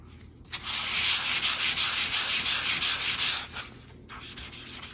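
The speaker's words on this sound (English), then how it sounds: "So you want to hand sand any minor little imperfections." Hand sanding of drywall joint compound to smooth small imperfections: a close, loud run of scratchy rubbing strokes in a quick swirling rhythm, then a few shorter passes after a pause.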